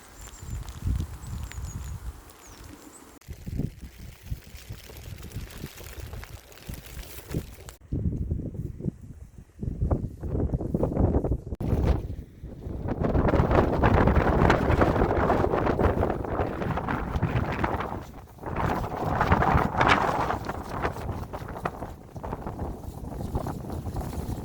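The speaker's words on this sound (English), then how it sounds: "And here's a nice little downpour." Heavy November downpour in Scottish woodland, a steady broad hiss of rain that swells loudest midway and again later, with some wind buffeting and rustling near the microphone.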